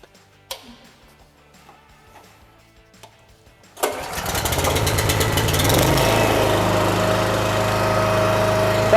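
A Pramac power generator engine cranks and catches at about four seconds, then runs steadily and loudly with a dense mechanical clatter to the end, after a quiet stretch of faint clicks and handling noises.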